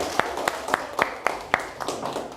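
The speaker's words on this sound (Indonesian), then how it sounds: "Kita berikan aplaus untuk kelompok 3" A small classroom audience at a madrasah school claps briefly for a student group after its presentation, about eight sparse, evenly spaced claps that sound thin and fairly close.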